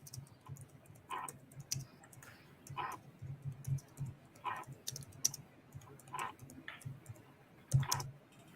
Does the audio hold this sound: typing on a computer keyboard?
yes